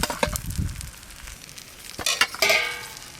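Katla fish head frying in hot oil, with soft sizzling and a few bursts of stirring and spatula scrapes against the pan, close and intermittent.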